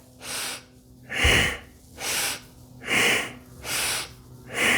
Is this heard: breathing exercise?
yes